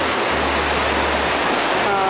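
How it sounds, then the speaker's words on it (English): River rapids in the San Gabriel Mountains give a loud, steady roar of rushing water that fills the whole scene without a break. "There are some nice rapids."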